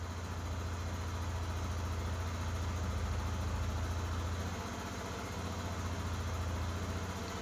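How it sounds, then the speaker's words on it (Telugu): A restored Hero Karizma R motorcycle engine idles steadily on choke, a low, even, throbbing hum close by that stays constant throughout with no talk. "ఫస్ట్ ఇంజిన్ బీటింగ్ ఏనండి ప్రశాంతంగా"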